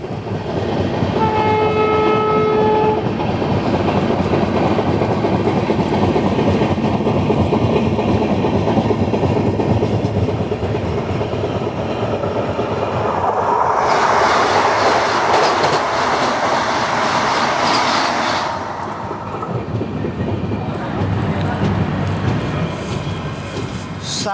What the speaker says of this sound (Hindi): अभी हमारी ट्रेन की क्रॉसिंग होने वाली है अहमदाबाद ओखा वंदे भारत एक्सप्रेस के साथ।